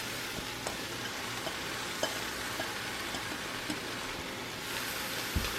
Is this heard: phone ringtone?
no